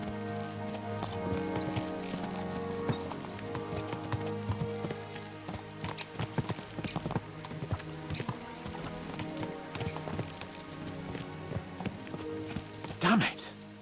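Horses clip-clop on the move in the video game Kingdom Come: Deliverance 2. The hoofbeats form a steady, moderately faint rhythm under background music and talk, with a brief louder burst near the end.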